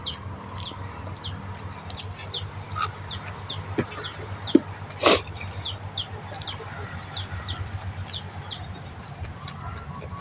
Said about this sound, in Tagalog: Yung mga manok ko nanonood lang sa akin.